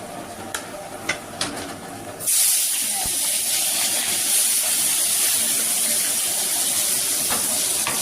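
Dry red chillies and bay leaves dropped into hot oil, a few light taps at first, then a sudden loud, steady hiss of sizzling that carries on close by.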